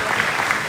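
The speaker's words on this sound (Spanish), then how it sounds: "Un aplauso fuerte para nuestros tres participantes" Audience applause at a lecture, a brief dense burst of clapping from a hall crowd.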